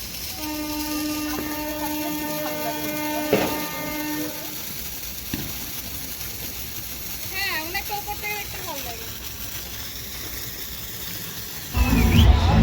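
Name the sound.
spinning ground firework hissing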